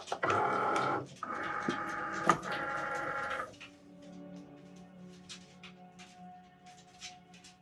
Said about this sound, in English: we're gonna go ahead and load this into our machine